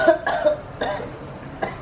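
An older woman with a lingering illness coughs several times in a quiet indoor room, each cough a short, harsh burst with brief pauses between them, close and fairly soft.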